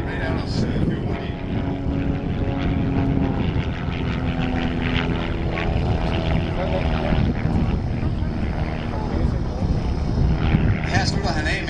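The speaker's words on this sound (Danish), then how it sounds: "hans flyver den ruller med 420 grader i sekundet" Giles G-202 aerobatic plane performing fast rolls during an airshow display, its propeller engine droning loudly and steadily throughout, with crowd and announcer talk mixed underneath.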